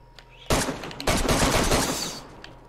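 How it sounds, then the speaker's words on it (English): DayZ video game gunfire, a loud close burst of rapid shots starting abruptly and followed by a second sustained volley that fades out, with no talk over it. "I'm gonna shoot him right now."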